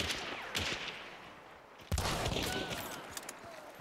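Gunfire crackles through a video game battle, bursts of shots fairly distant and quiet at first, then a sharp louder volley near the midpoint followed by continued rattling fire.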